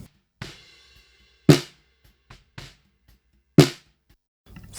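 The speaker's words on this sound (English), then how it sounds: "So the snare bottom on its own sounds like this" Snare drum bottom track heard on its own: sharp isolated hits with a bright buzz from the snare wires, irregularly spaced with near silence between, close and dry.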